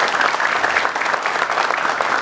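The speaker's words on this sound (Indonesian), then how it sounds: "Tepuk tangan buat beliau" Steady applause from an audience at an Indonesian religious gathering, dense and continuous clapping throughout with no pauses.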